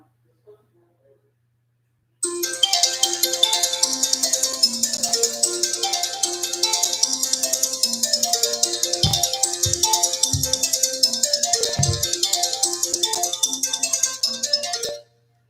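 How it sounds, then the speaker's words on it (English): A phone's standard ringtone plays alone, a bright repeating melodic pattern running steadily for over ten seconds before stopping abruptly. "Okay, my ringtone. I don't even know how to set it. It's just the standard one."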